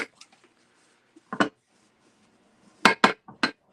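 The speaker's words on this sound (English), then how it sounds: "I'm sorry it's banging on the table" A ceramic piece being wiped during rub-on transfer work bangs against a table in several sharp, close clacks that come in irregular clusters with quiet gaps between them.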